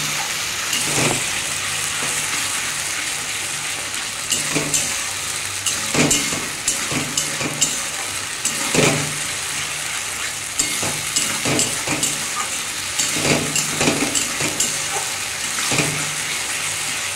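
Mutton masala for a homestyle Bengali mutton curry being stir-fried in a pan, a steady close sizzle broken by repeated scraping strokes of a spatula at irregular intervals throughout, with no talk.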